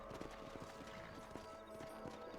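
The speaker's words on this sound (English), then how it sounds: "Alright, mount my horse." Horse hooves clip-clop at a steady trot in the Red Dead Redemption video game, rhythmic thuds sounding close over a continuous musical drone, with a brief whinny.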